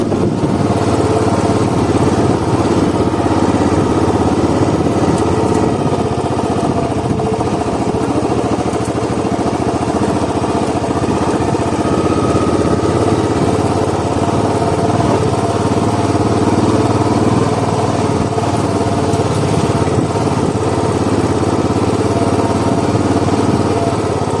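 An off-road motorcycle labours in first gear, a steady, close engine drone with a slight vibrating roughness that holds almost unchanged from start to finish, with no one talking.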